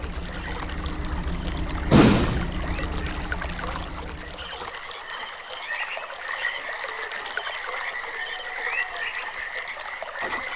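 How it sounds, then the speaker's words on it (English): Water flows through the Channelwood area of the video game realMyst as a steady trickling stream. A sharp click comes early, and then the low rumble of the flow drops away while the trickle carries on quietly. "You can hear the water flowing."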